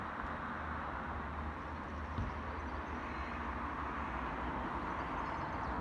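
Steady, broad rumbling ambience like a train moving through a station in Exeter, England, continuous and fairly loud with no clear voices.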